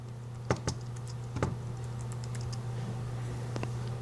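Keys tapped on a computer keyboard while a bin name is entered in Avid Media Composer: a few separate clicks near the start and middle, then a last tap near the end, all over a steady low electrical hum.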